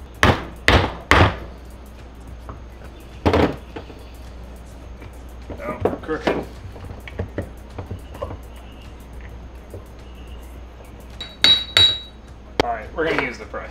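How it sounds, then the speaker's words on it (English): Hammer tapping parts into a Ford 8.8 differential during a Miata swap, a handful of sharp metallic knocks in short clusters, with a brief spoken remark and quieter clinks between the blows. "I am going to try to tap these in with a hammer."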